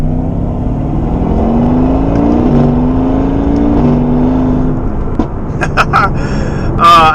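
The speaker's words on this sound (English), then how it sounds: "you can hear the turbo noises and stuff" A tuned twin-turbo V8 AMG with a new downpipe pulls hard, a loud, rising engine note with turbo whoosh and whistle, then ends in sharp turbo flutter and chirps, heard from inside the car.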